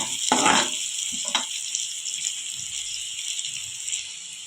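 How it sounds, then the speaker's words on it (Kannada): Onions and chana dal frying in hot tempering oil with cumin, a steady close sizzle opened by a couple of brief stirring clatters, then settling into a softer, even frying hiss. "ಈಗ ಒಗ್ಗರಣೆಯಲ್ಲಿ ಈರುಳ್ಳಿ ಎಲ್ಲನೂ ಬೆಂದಿದೆ"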